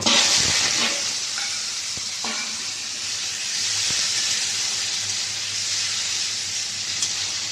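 Hog plum (amra) pieces sautéing in hot oil tempering in a pan give a steady bright sizzle throughout, with a few soft knocks and scrapes of stirring near the start.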